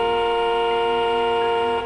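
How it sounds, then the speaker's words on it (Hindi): A car horn blares in one sustained, unbroken tone that holds steady and loud for the whole short stretch. "उसने कुछ 10-15 सेकेंड्स के लिए हॉर्न बजाया।"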